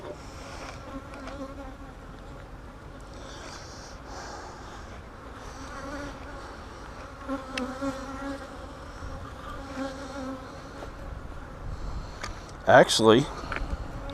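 Honey bees buzzing steadily around several hives during an inspection, a dense continuous drone throughout with someone talking briefly over it and a sharp handling clatter near the end.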